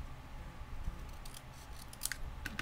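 Scissors snip through a black cardstock circle, a few quiet, crisp cuts sounding close against a soft, faint room background.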